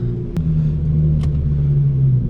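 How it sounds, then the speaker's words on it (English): A Hyundai Genesis Coupe fitted with aftermarket headers runs loud in neutral, producing a deep, continuous exhaust rumble with a steady droning tone and a brief sharp click near the start. "I'm gonna drop it into neutral, rev it up"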